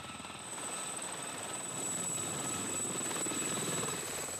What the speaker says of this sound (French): Un autre moyen de locomotion indispensable au 13. L'hélicoptère.